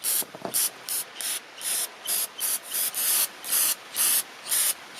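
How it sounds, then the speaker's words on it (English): Short bursts of carburetor cleaner spray hiss in a steady, repeated rhythm, close by, about a dozen quick pumps with brief pauses between them, on a Suzuki DR350SE motorcycle carburetor. "now that I've sprayed this whole thing down"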